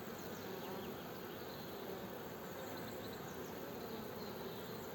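Honeybees swarm around an opened hive during an early spring inspection, and their dense, steady buzz drones on without a break throughout.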